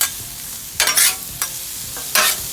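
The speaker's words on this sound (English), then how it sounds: "And now what you do is you mix it really good." Seasoned onions with salt and pepper stirred in a pan before slow caramelizing, with several loud bursts of scraping and sizzle over a constant frying hiss, no voices.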